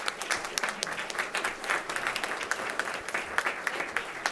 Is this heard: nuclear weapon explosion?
no